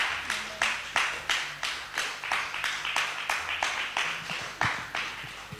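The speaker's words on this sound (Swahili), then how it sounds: "Endelea kupiga makofi mazuri" A church congregation claps in a steady, rhythmic beat, roughly two claps per second, fairly close and even, with faint voices underneath.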